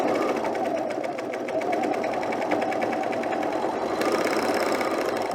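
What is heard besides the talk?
serger sewing center seam of V-neck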